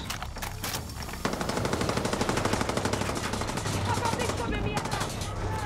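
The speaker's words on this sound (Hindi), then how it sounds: "फायर तो जबरदस्त वाली हो रही है।" Rapid machine-gun fire rattles in a dense, continuous stream of loud shots during combat in the Far Cry 6 video game, preceded by a few separate bursts.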